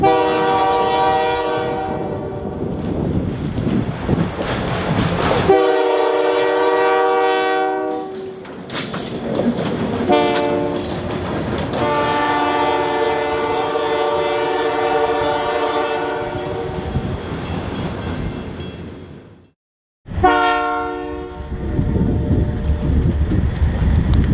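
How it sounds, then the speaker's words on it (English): A loud SCFG freight train rumbles past close by on the Gaspé Railway in very cold, extremely windy weather, its horn blaring in long harmonic blasts over the roar and clatter of the cars. "SCFG Train 565 pulls"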